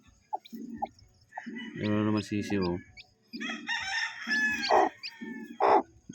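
Chickens on a farm in the morning, with a rooster crowing up close, clucking hens and small peeping calls; a person speaks briefly among them.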